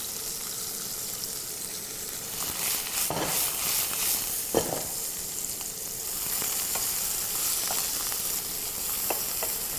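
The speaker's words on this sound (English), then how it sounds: "And just fry it until it's nice and brown." Dried shiitake mushrooms seasoned with black pepper and salt fry in a pan until browned, giving a steady, close sizzle with a few soft stirring clicks and scrapes throughout, no voices.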